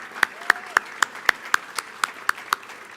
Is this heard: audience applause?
yes